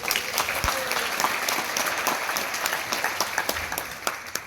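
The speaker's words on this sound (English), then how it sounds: "Can we give him a round of applause?" An audience at a community meeting claps steadily for several seconds, a dense patter of many hands at moderate distance with no talking over it.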